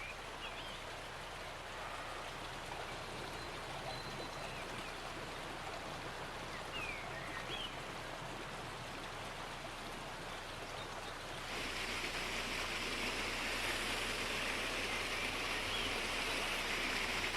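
A waterfall roars steadily in the open, a dense, even hiss of falling water that swells slightly louder partway through, with no voices.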